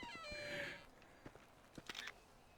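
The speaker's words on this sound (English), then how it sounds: "The cat's in that bush somewhere." A cat hiding in a bush in the video game Grand Theft Auto V gives a drawn-out meow, then a few faint rustles and a shorter mewing cry, close and quiet.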